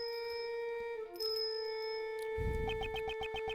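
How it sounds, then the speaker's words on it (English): A bell ringing in a dark night scene, sustained bright tones ringing on with a rapid repeated jingling near the end over a soft rumble. "The sound of a bell ringing in the dark of night"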